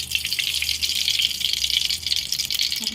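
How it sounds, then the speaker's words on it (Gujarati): Cooking oil poured into a hot pan where mustard seeds and cumin have been tempering, a steady close gushing pour lasting the whole stretch with no voices. "થોડું તેલ એડ કરી દેવાનું છે।"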